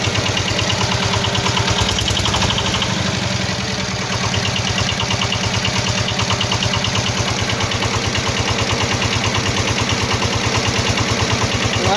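A homemade generator built from a washing machine motor, running with no modifications, gives a steady, close mechanical hum with a regular pulsing throb that continues without a break for the whole stretch and carries no talk.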